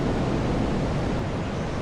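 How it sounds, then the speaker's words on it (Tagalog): Big ocean waves break along the coast at Masanga Point in Aurora, Philippines, in a steady, close, full roar of surf with no voices. "Lalaki ng alon."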